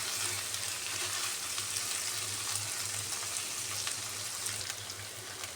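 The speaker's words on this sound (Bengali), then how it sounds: "এই যে লো হিটে দিয়ে গোষ্ঠটা ভালো করে কষাচ্ছেন" Broiler chicken meat frying slowly on low heat for a Bengali bhuna, giving a dense, even, rain-like sizzle that holds steady throughout, close and unaccompanied.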